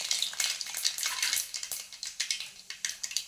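Chana dal and mustard seeds frying in hot oil for upma make a close, steady sizzle. Quick clicks of stirring run through it, growing sharper and more rhythmic toward the end.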